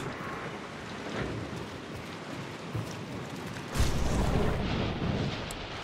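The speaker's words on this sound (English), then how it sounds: "Heavy rain, I hope." Video game heavy rain: a dense, steady roar with a broadband hiss, swelling louder about two-thirds of the way through, with no voices.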